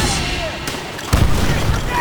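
A grenade blast in the video game Call of Duty: World at War lands about a second in as a short, heavy boom over ongoing battle noise, with a voice talking.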